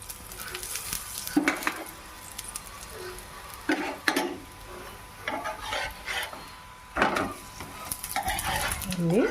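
Sweet potato puran poli roasting on a pan with a little oil, soft sizzling under repeated spatula scrapes and clinks of cookware, intermittent and close, with no talk.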